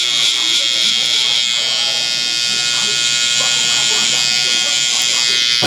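Electric hair clippers cut a kid's fade with a 000 guard, buzzing steadily and loudly up close for the whole stretch, their high whine constant while a voice talks faintly underneath.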